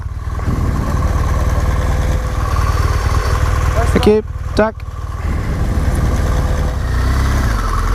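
A BMW R1200GS motorcycle idles at a Norwegian toll booth with a steady, close, loud engine chug, while a rider briefly speaks in the middle and a short burst of other noise passes over the idle.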